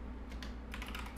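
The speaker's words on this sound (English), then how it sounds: "I'm gonna type in the email address" Quick, light taps on a computer keyboard as an email address is entered, a short burst of quiet keystrokes close by over faint room hum.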